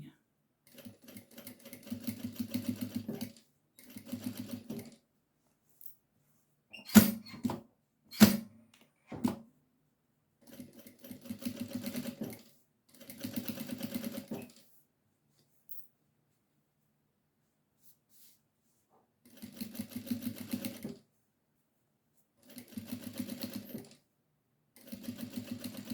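A sewing machine stitches a hem on a baby bib in several separate bursts of steady whirring, with a few sharp clicks in a pause between runs, close by.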